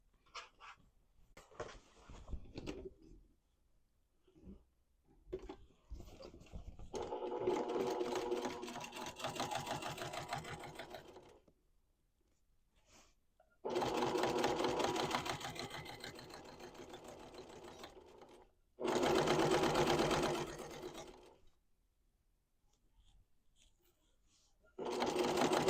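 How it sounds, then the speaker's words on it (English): A sewing machine hems the top edge of a fabric tote-bag pocket in three long steady runs of close whirring stitching, separated by quiet pauses and brief handling sounds, with a voice talking at the start. "let's go over to the sewing machine and we're going to hem the top edge of our pocket"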